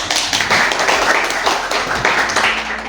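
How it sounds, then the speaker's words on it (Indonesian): Students in an Islamic religion class clap their hands together, a dense burst of fairly loud, close claps with some voices mixed in. "Tepuk tangan dulu."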